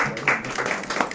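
At a poetry recital in a hall, an audience gives a short burst of light applause, heard as a soft, diffuse patter of many hands at moderate distance.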